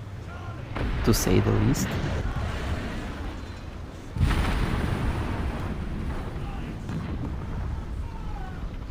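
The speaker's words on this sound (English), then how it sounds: "I cannot believe that one dart managed to detonate the ammo on that vehicle" An ammo rack detonating on a vehicle in War Thunder Mobile, a heavy blast bursting out near the start and another around the middle, followed by a long rumbling roar, with someone talking over it.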